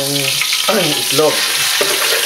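Egg being stirred in hot oil in a pan with garlic and celery for seafood fried rice, a steady loud sizzle broken by a few short scraping strokes of the spatula.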